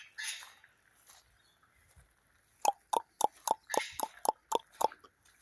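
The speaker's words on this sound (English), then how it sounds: "Can you hear all the frogs?" Frogs calling in the bush after rain, a run of short, sharp clicking croaks repeating in quick rhythmic bursts, fairly close, with faint hissing sounds between and no talk.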